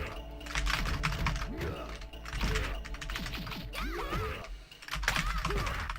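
Rapid, dense clicking of computer keyboard buttons being mashed during a button-mashing fighting game, steady and close throughout, with some background game sounds.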